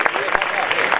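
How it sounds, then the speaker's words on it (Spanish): Audience applause at the final of a flamenco contest in Sanlúcar, a short burst of dense clapping that fills the whole moment, with a voice likely mixed in. "Me gustaría darle un aplauso a Pepe Oliva."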